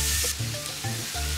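Onion, ginger and garlic sizzle steadily in a hot pan, a continuous close frying hiss with a few soft stirring shifts, no voices.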